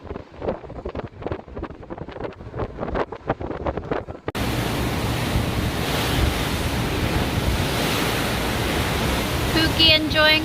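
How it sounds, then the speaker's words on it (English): Rough seas from the remnants of a hurricane around the Adventure of the Seas cruise ship: a broad, constant roar of waves and wind that sets in abruptly after an opening stretch of rustling and clattering, loud and unbroken. "Waves."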